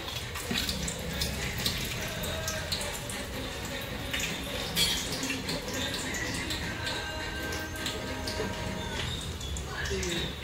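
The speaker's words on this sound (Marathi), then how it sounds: "आता तेल पण झाले गरम आपला। आता हा टाकू सर्व अख्खा सामान।" Whole spices hit hot oil in a pan for a Maharashtrian dal mundi, setting off a continuous crackling sizzle that hisses steadily at close range while a person talks over it.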